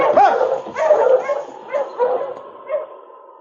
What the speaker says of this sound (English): a dog team stopping outside the cabin